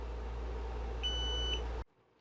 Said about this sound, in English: She holds the power button down until you hear it double beep.